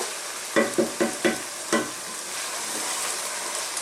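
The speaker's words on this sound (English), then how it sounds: "Our liquid's pretty much gone now, as you can see. And it's kind of starting to fry." Beef stew in a pot starting to fry as its liquid cooks off, with a steady sizzle and a few sharp stirring scrapes and clatters near the start.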